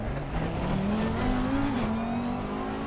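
An Audi mid-engine race car runs at Zandvoort in a racing video game. Its engine tone holds steady and then climbs a little in pitch, fairly quiet and with no voices.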